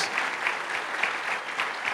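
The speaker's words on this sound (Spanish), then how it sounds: "denles un fuerte aplauso a todos sus maestros" A church audience in a Sunday school setting applauds its teachers with dense, steady clapping from many hands, continuous and moderately distant throughout.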